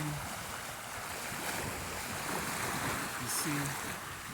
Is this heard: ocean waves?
yes